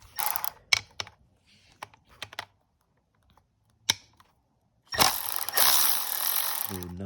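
A Milwaukee power tool backs out 10 millimeter bolts on a 1987 Kawasaki KX125 dirt bike, with scattered clicks and taps, then a loud sustained whirring rattle as it spins a bolt out up close.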